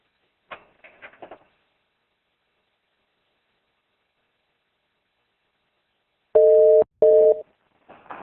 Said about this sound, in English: when you hear the tone, go ahead and ask your question